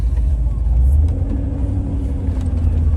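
Steady low road rumble from inside a car cruising a freeway near Columbus, Ohio, a constant droning engine and tire hum throughout.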